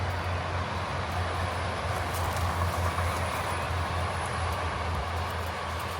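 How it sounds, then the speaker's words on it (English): A TransPennine Express train rushes past nearby in the countryside between Barton Hill and Malton, a steady roaring rumble of wheels on rails holding constant throughout. "There's also a Trans-Pennine Express."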